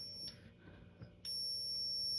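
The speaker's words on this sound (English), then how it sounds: "So we test the buzzer." Fire alarm panel buzzer being tested on a Morley IAS DXC-1 control panel, a steady high electronic tone sounding from mid-clip to the end at moderate level, with brief clicks and a faint earlier tone before it.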